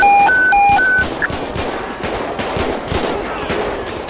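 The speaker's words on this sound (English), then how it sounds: "Shots fired." Gunfire in the Grand Theft Auto video game during a police gang-unit patrol, a burst of rapid shots layered over game tones and beeps, then sparser bangs amid steady background noise.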